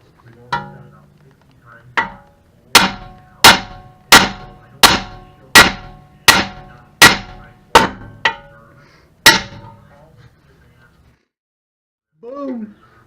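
Metal hammering on Blazer front end suspension parts in a garage, about a dozen hard, ringing strikes in a steady rhythm, close and loud, with a short voice near the end.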